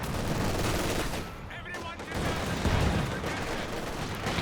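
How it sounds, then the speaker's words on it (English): In Company of Heroes 2, a light machine gun fires bursts at Grenadiers amid dense battlefield gunfire, a continuous rattling fusillade with brief dips, heard over a steady rumble of combat. "Got the LMG on one of these Grenadiers now, fighting strongly against the penals."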